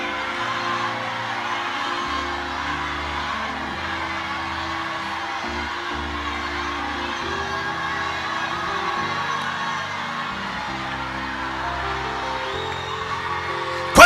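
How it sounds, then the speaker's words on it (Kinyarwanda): A large church crowd shouts hallelujah together continuously, a dense wall of voices with a steady low musical backdrop throughout. "Shout 7 hallelujah if it's coming."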